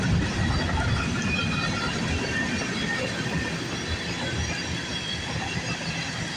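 A heavy CN freight train rumbles steadily past nearby in the rain, a continuous broad roar with faint rhythmic clatter of wheels on rails and no voices.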